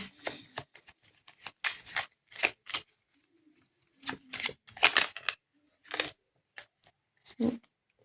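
Tarot cards shuffled by hand in a quiet room, with close, crisp riffling bursts in irregular clusters separated by short silences.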